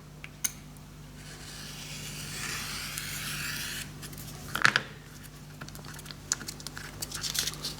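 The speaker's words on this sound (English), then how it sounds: "Okay, we can cut that with the sharp blade." A sharp blade cuts sheet material laid along a steel rule during final assembly of a Stuart Turner 10H steam engine. A soft, steady scraping rasp lasts a couple of seconds, followed by a few small taps and clicks, all faint and close.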